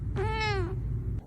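A single clear cat meow, played as a sound alert, rising and falling over about half a second, loud and close over a low steady background hum.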